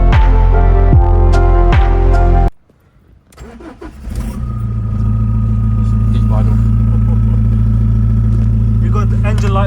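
A BMW E46 settles into a steady, close engine idle after a brief dip in sound, with a low, even hum continuing to the end.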